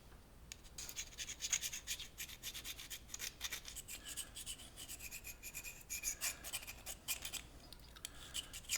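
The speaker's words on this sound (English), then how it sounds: "I thought a couple of strikes would have gotten the coating off of this" Metal file rasping against a lighter's flint to scrape off its coating: steady close scratching strokes in quick irregular bursts, fairly quiet, with no voices.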